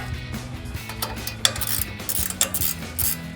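A 14 mm ratchet on a 2007–2024 Chevrolet Silverado 1500 front leveling kit bolt gives a run of close, rapid clicks in short bursts with small metallic clinks between them.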